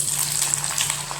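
Garlic and mustard seeds fry in sesame oil in a pan, giving a close, steady crackling sizzle with small pops over a brief stretch and no talking.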